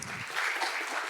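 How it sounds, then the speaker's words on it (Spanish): Brief, fairly faint applause from a panel-event audience at an innovation talk, a soft wash of clapping lasting about a second. "un aplauso para él"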